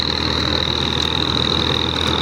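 A 1979 Ford 3600 tractor engine runs with a large 48-blade rotavator attached, giving a loud, steady drone with a constant high whine. The sound is close and continuous, with no talk.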